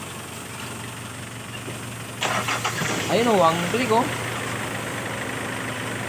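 A Hyundai car engine cranks, catches and settles into a steady idle, heard close up while people talk over it before and after it starts.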